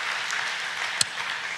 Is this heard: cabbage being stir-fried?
no